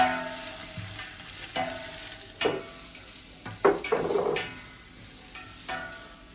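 Onion and carrots fry in a pan for pansit bihon with a continuous sizzle, while a utensil stirs and knocks against the metal in scattered clanks, louder in a cluster mid-way.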